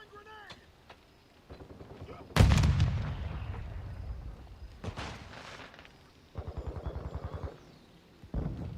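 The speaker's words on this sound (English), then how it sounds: "Throwing grenade." A thrown grenade explodes in Call of Duty Modern Warfare II: one loud, booming blast that fades into a rumbling tail, among quieter game sounds and gunfire, with brief bursts of rapid shots afterward.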